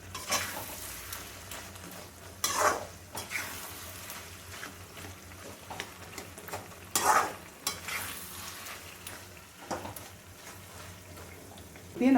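Mango thokku, a mango pickle, cooking in oil in a pan, with a soft continuous sizzle broken by occasional louder stirring scrapes, with a voice faintly present at times.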